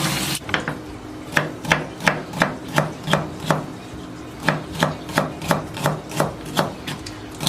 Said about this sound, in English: Chop them up small. Normally what I'll do is I'll cut them down the middle.